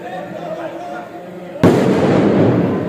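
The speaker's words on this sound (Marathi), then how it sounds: "फटाके फोडतात" Soft indoor background with a voice, then a sudden loud string of firecrackers bursts and keeps crackling rapidly to the end.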